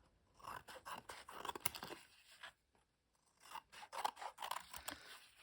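Scissors cut through strong black paper in a run of quick, crisp snips, then a pause, then another run of snips, heard up close and without talk.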